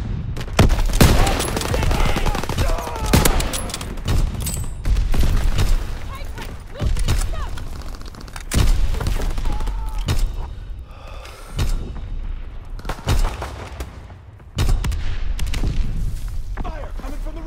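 Gunfire crackles through a video game battle among ruins, with repeated bursts, single shots and heavier booms spread across the whole stretch, loud and near, while radio voices and game announcements speak over the fighting.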